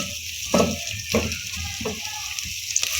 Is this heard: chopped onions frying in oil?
yes